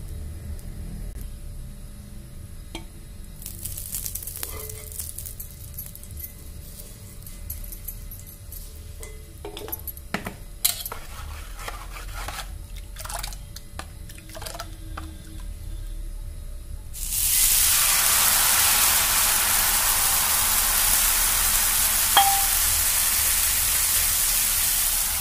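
Jowar flour dosa batter meets a hot pan with a sudden loud, steady sizzle that hisses on without letup, following a quieter stretch of utensil clinks and scrapes.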